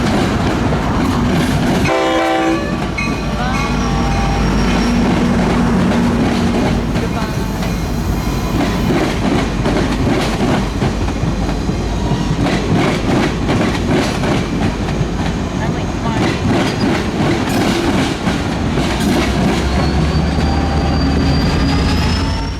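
A North Carolina Piedmont passenger train passes on the NCRR line, sounding a loud horn early on, then a long continuous rumble of wheels with clickety-clack and squealing wheels as the cars roll by close.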